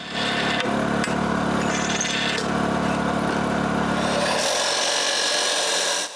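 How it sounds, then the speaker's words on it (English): A power drill whines steadily up close as it bores holes into metal, the pitch shifting and rising near the end before it stops. "This will be assembled with nuts and bolts, so we also need to drill holes."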